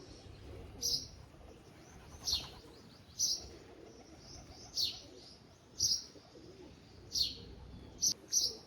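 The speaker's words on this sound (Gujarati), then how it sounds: "તો મિત્રો કબૂતર ચણે છે." Repeated short, bright chirps and calls from pigeons pecking grain, at regular intervals over a low rustling background, fairly close.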